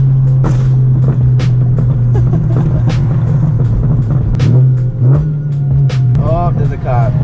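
A BMW E92 M3 with a straight-piped exhaust drones steadily from inside the cabin during a drive, a loud low engine hum with brief revs and shifts, while someone talks over it.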